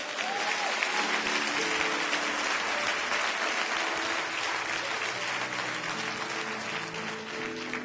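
A church congregation applauds in a steady, full wash of clapping that holds at an even level throughout, with faint cheering mixed in and no clear talk on top.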